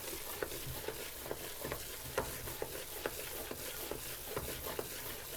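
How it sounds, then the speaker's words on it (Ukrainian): Quiet, rhythmic scraping and tapping of a utensil stirring an egg mixture in a pan, with a soft sizzle underneath. "Яєчну суміш висипали туди і вимішуємо"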